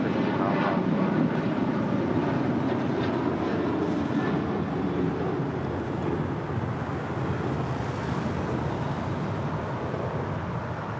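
An airliner taking off from runway 25 Right at LAX, a steady, loud broadband jet roar holding for the whole stretch with a slight swell early on, no voices over it.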